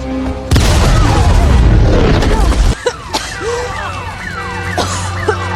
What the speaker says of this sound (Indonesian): tiba-tiba terjadi ledakan